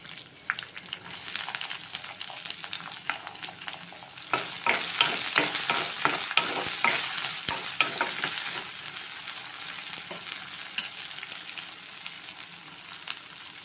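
Onions sautéing in a pan for a South Indian vegetarian fasting lunch, a steady sizzle with repeated close scraping stirs that grow busier midway, then settle back to a softer fry.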